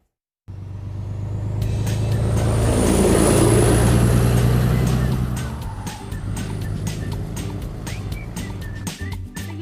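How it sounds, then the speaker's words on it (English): A heavy vehicle engine revs and roars up close, swelling loud then settling into a rougher idle with rattling clicks, no speech. "The red color truck."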